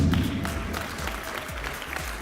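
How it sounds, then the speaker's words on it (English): An audience at a tourism awards ceremony applauds an honoree recognized for 52 years of service, sustained clapping throughout with a low hum from a sound system underneath. "Give her a round of applause, please."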